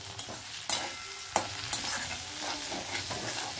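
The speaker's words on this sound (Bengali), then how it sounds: "আর পেঁয়াজ একসাথে ভালো করে নাড়াচাড়া করে নেব" Onion, garlic and tomato frying together in a pan, a soft constant sizzle broken by a few distinct spatula scrapes and knocks as they are stirred, fairly quiet and close.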